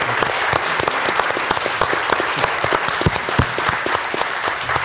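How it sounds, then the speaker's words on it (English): An audience at an arts and culture forum gives a panel another round of applause, loud continuous clapping from a full room with distinct close claps standing out, no talk on top. "we should give the panel one more round of applause"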